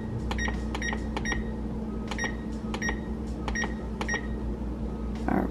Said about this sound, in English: you want to set the oven, preheat the oven